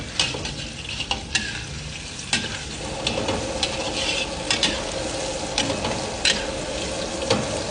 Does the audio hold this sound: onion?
yes